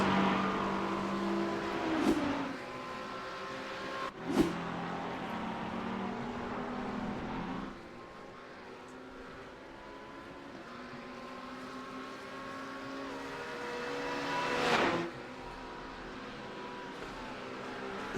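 Race cars in a racing video game at Indy, GT3 cars circuit racing, engines droning steadily with harmonic whine and several cars sweeping past in brief surges, alongside a continuous motor hum throughout.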